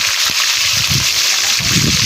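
Curry leaves fry in hot oil for an okra kara kuzhambu, giving a loud, steady, close sizzling hiss with low bubbling crackles underneath.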